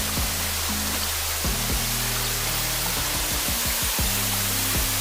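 A waterfall in the Stara Planina mountains pours in a dense, steady broadband rush close by, with a repeated low thumping of wind or handling noise breaking through underneath.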